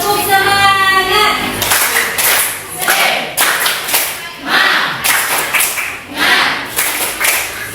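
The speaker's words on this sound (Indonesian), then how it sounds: "Kalau begitu kita tepuk semangat dulu, karena dari tadi kita semangat sekali belajar." A classroom of students does a rhythmic 'tepuk semangat' cheer, bursts of patterned clapping loud and close, with children's voices chanting over and between the claps.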